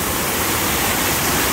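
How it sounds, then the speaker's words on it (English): Bond Falls waterfall in Michigan roars from very close range, a loud, dense, continuous rush of falling water with no break. "you can get up real close to Bond Falls here"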